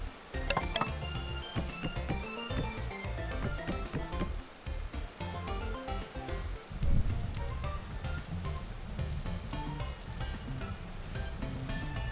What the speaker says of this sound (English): the rain has died down.